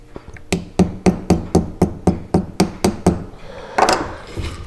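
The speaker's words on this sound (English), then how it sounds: "And hammer it down a little bit." Hammer blows flatten a grandfather clock click spring wire on a large steel bench block at a clock repair bench: about a dozen sharp, evenly spaced metallic strikes close by, then a brief scraping handling sound.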